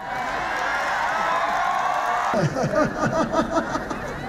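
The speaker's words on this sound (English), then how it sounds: "Those claps, if you listen carefully, seem to be coming mainly from the male folk." Crowd noise with scattered clapping and cheering, shifting to a rhythm of distinct claps with a lively group murmur around them.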